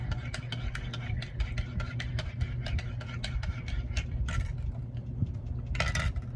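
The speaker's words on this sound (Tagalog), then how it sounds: "Haluin lang ng haluin." A spoon stirs Bear Brand Adult Plus milk drink, tapping and clinking against the container in a quick, steady rhythm that lasts throughout, over a constant low background hum, with no talking.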